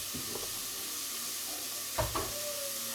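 Onions sizzle in a frying pan for chicken katsu curry, a soft steady hiss broken by a couple of louder stirring scrapes of a utensil against the pan.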